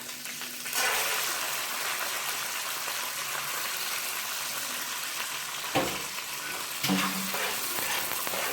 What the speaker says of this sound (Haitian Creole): Et puis ça fait frit.